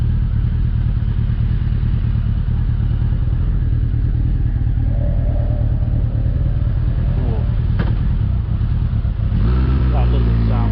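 A Honda CBR1000F engine drones steadily while riding on a commute, a low continuous rumble heavily mixed with wind roar, with a slight rise in engine note near the end.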